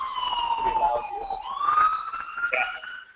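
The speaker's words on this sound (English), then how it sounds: "I'm sorry with the ambulance, pretty loud here." An ambulance siren wails steadily at a campground during a cycling event, its tone sliding up and down as it passes, loud and fairly near with faint background murmur.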